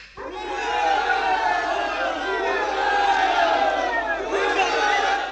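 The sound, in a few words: crowd of voters cheering their elected deputy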